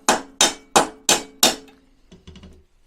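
Five evenly spaced hammer taps ring out on the spring plate of a VW Bug during suspension lowering, each a loud close metallic knock, followed by a few faint softer clinks.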